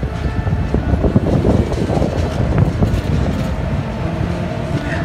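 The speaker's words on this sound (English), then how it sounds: "we will see a twin WG7 hauled freight locomotive train coming up the" A freight train hauled by twin WG7 locomotives rolls past near Karjat station on the Bhor Ghat line, a loud continuous low rumble with metallic rattling and faint clatter throughout.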